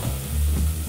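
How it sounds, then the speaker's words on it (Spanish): Basmati rice hits a hot frying pan and sizzles loudly and steadily, a close, dense hiss with no voices over it. "lo vamos a colar y después en un sartén lo vamos a cocinar igual que cualquier arroz. Y agregamos nuestro basmati."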